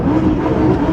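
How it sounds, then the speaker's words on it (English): Close, loud rumble of a modified rally car's V8 engine, a steady throaty growl over one brief second. "There's nothing like that V8 sound that these engines back here produce."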